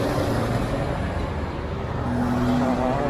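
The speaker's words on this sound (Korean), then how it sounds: "군산 시외버스 터미널이에요" Road traffic at an intercity bus terminal in Gunsan, South Korea: a steady, fairly loud wash of car and bus engine noise with a low hum, no clear single pass-by.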